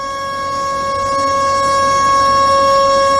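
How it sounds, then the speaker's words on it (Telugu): Civil defense siren played for a nationwide mock drill, a steady sustained wail held at a constant pitch, loud and continuous, slowly swelling in volume throughout with no voices. "ఇదే సైరన్ రేపు దేశవ్యాప్తంగా మాక్ డ్రిల్స్ నిర్వహించేందుకు సైరన్ మోగించబోతున్నారు."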